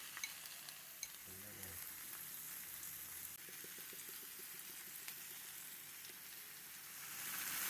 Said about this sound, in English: the sizzling hot sizzlers.